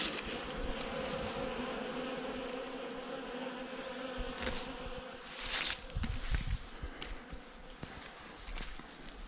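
Honeybees buzzing steadily nearby at an apiary, a dense droning hum with a few louder passes close by near the middle.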